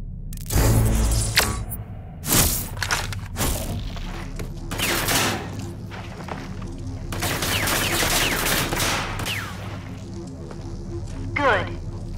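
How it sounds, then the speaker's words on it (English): Simulated enemy gunfire in the shooter game Rage 2 crackles in dense, overlapping bursts that run almost the whole time, loud and close, with heavier blasts near the start and the end. "Use the barrier accession to protect yourself against simulated enemy fire."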